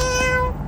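A cat gives a single short, clear meow at close range, with steady tonal harmonics fading out toward the end.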